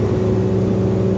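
Engine of a 2021 Monterey M-45 boat droning steadily at close range as the trim is raised, a constant tonal hum with the revs creeping up, no voices over it.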